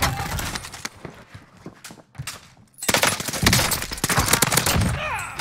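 Bursts of rapid gunfire in the Call of Duty video game on Rebirth Island, loud crackling volleys with a short lull in the middle before heavier sustained shooting resumes.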